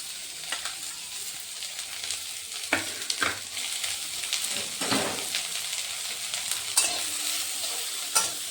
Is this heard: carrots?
yes